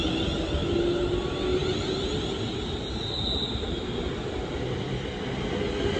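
London Northwestern Railway Class 350 electric trains pass and pull away near Euston and Harrow & Wealdstone, giving a steady, loud broadband rumble and hum that holds for several seconds with no break.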